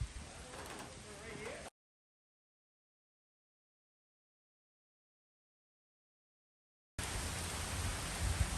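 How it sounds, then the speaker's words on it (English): Heavy rain setting in during a long road trip to haul home old Mopar cars: a dense, steady hiss in two stretches split by a long silent gap. "it is starting to rain pretty hard again"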